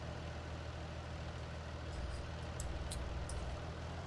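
A tractor engine from Farming Simulator 19 runs in a steady, low, rumbling drone, close and unbroken, with a few faint clicks near the end.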